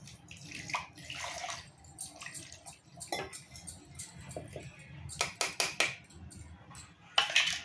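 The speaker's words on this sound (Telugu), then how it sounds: "కొన్ని వాటర్ పోతుంది" Water is poured in small splashes and drips while a chutney is made with cumin. The sound is intermittent, close and fairly quiet, with faint clinks of a utensil.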